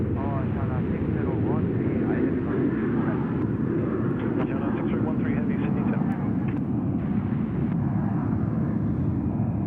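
A Velocity Boeing 737-800 at Sydney Airport gives a constant loud jet roar, with voices talking over the engine noise.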